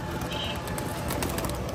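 Pigeons coo softly at a roadside pigeon farm in Rajshahi, under a dense, noisy background that nearly buries the calls.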